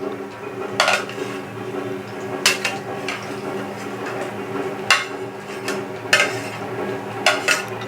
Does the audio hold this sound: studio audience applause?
no